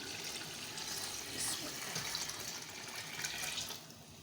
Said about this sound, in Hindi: इसमें हम जो हमने सूप निकाला है इसका यखनी वो डाल देते हैं